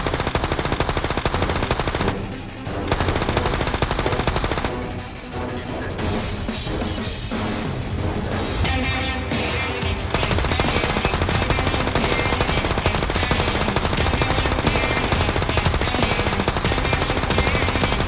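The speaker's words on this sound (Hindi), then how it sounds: "भाई गोलियों का साउंड तो बंद ही नहीं हो रहा" Rapid, continuous bursts of automatic gunfire from a video game, loud and relentless, with a few brief pauses between volleys.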